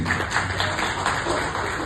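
Applause at a press conference for the Big Green Durga Puja fills the room, with dense, steady clapping from a crowd sustained throughout and no breaks.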